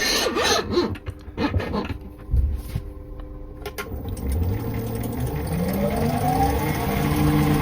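A wood lathe with a gearbox turns a pen blank on a mandrel at about 1800 rpm, starting with rubbing and knocking sounds, then a steady motor hum that rises in pitch as it spins up.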